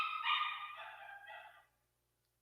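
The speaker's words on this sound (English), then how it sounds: "we just have to kind of deal with the puppy noise" A puppy gives a high, faint whimpering whine for over a second, trailing off into near silence before a brief knock.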